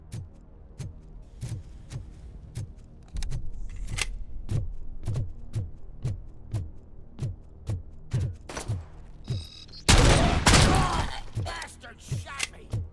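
Steady single gunshots in RoboCop: Rogue City thump at a regular pace, fairly quiet, before a sudden loud crashing burst of noise near the end.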